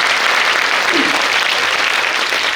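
Steady, dense clapping fills a school auditorium during a talk concert, a continuous wash of applause from a large audience with a faint voice briefly surfacing midway.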